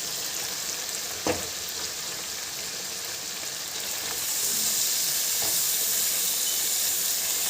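Chicken pieces hit a pan of spiced, fried masala for a chicken curry, setting off a loud, steady sizzle that swells and stays intense, with a faint clink of utensils.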